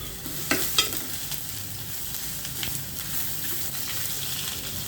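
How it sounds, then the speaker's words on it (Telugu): Ginger and garlic fry in a pan over a low flame for an ivy gourd and coconut curry, giving a steady, close sizzle broken by a few soft stirring scrapes, with no voices. "తర్వాత అల్లం వెల్లుల్లిపాయ బాగా ఎదుగుతాయి సిమ్లో పెట్టుకోండి"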